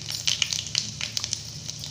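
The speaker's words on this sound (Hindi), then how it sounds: "अच्छा से जीरा राई के कड़क जाए दे" Cumin and mustard seeds crackle and sizzle in hot oil, with quick sharp pops scattered over a steady frying hiss, close by.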